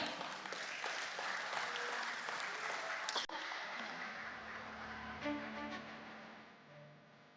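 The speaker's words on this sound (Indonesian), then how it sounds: "Mari kita berikan tepuk tangan yang meriah." Dense, lively applause fills a room at an Indonesia Stock Exchange IPO ceremony for PT Bangun Kosambi Sukses Tbk, then cuts sharply to a lighter patter that tapers off into quiet.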